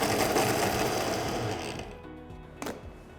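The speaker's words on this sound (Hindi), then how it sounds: "ब्रेड को यूं तोड़ा एंड सिंपली इसे हमें ग्राइंड करना है" A mixer grinder whirs loudly as it grinds torn bread into breadcrumbs, then winds down and stops partway through, leaving a brief clatter and quieter tail.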